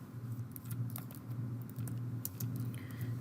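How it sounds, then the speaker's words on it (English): Keys tap on a computer keyboard in quick, soft, irregular clicks under a steady low hum of room noise, with no one speaking. "Again, we need to type in April"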